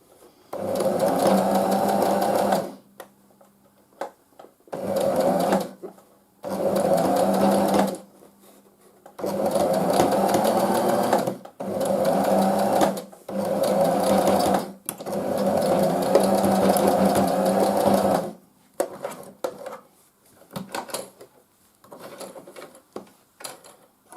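A sewing machine stitches elastic onto a fabric face mask in repeated bursts of several seconds each, separated by brief pauses, loud and close.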